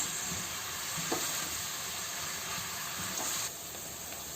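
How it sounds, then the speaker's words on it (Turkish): Onions being well browned in a pan, a continuous bright sizzle and hiss with faint stirring scrapes, easing slightly toward the end, no talking. "Onun için soğanımızı iyi kavuruyoruz."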